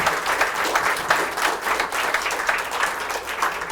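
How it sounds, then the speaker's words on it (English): Applause from an audience for a newly elected winner on election night, a dense, steady wash of many hands clapping that holds evenly through the whole moment with no voices over it. "I want to give her a round of applause for winning the election tonight."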